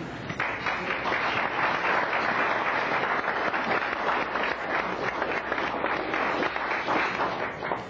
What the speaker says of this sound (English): a round of applause from the other professionals that were involved in this issue